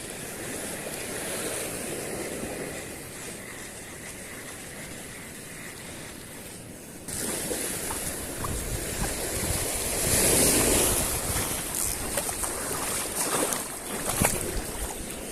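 Large ocean waves break and wash along a rocky shore in Catanduanes where anglers are shore casting, a continuous surf roar with wind buffeting that swells louder in the second half.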